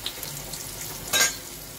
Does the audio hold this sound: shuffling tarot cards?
no